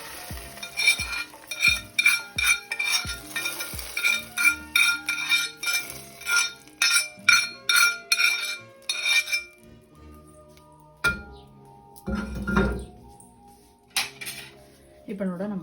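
Golden-brown fried onions go into cooked lentils for paruppu kadayal, a metal spoon clinking and scraping against the pot in a quick rhythmic run, then a few slower knocks and a soft sizzle.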